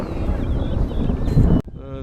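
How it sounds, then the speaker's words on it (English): Strong wind buffets the microphone in a steady low roar for over a second at an RC model plane flying field, then cuts off abruptly into near quiet. "it's super windy."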